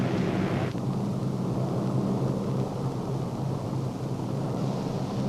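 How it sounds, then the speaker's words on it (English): A C-47 transport plane takes off, its engines giving a steady, broad roar that stays even and moderately distant throughout. "The plane starts for the third and final post of this particular flight."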